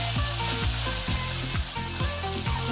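Onions sizzle loudly in hot oil for mutton kheema, a continuous close crackle with rhythmic stirring scrapes about every half second and no voices.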